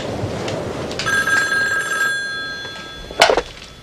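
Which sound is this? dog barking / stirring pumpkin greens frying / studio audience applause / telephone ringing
telephone ringing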